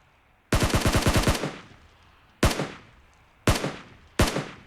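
Gunfire in the PUBG Mobile video game: a rapid burst of about nine close, loud shots, a pause, then three single sharp shots spaced apart.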